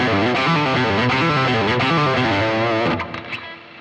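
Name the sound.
electric guitar legato with palm muting of other strings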